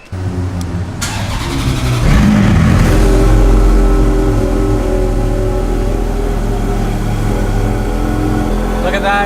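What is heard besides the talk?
expensive supercar engine starting and revving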